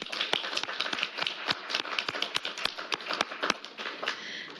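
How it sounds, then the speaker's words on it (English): Audience applause at a Tacoma city proclamation ceremony, a dense steady patter of many hands clapping close by for several seconds with no talking over it. "Everybody, please join me in a round of applause."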